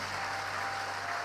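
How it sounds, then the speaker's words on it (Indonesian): A steady wash of clapping from a large crowd at an Indonesian political rally, even and sustained, heard at moderate distance with no speech. "Tepuk tangan untuk PKS."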